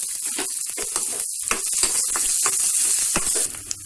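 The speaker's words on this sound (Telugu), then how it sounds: "ఇప్పుడు దీంట్లో చిన్నగా కట్ చేసి పెట్టుకున్న ఆనియన్ ఒకటి వేసుకోవాలి మిక్స్ చేద్దాం" Chopped onion frying with cumin in a pan for a mango curry, a steady loud sizzle with scraping stir strokes and clatter throughout.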